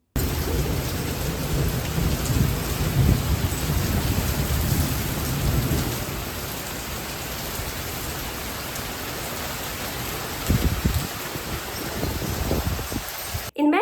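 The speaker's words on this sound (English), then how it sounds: "we started to get more and more thunderstorms" Steady rain pours during a rainy-season thunderstorm at Mae Rim near Chiang Mai, Thailand, with low rolling thunder rumbling heavily at first and again later under a constant hiss of rainfall.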